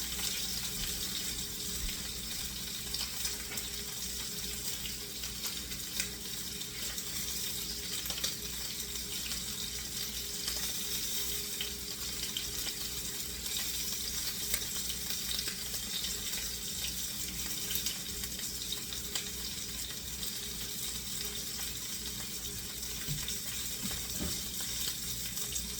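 Pork chops browning in oil in a frying pan, a steady continuous sizzle and crackle running evenly throughout, fairly close and without talk.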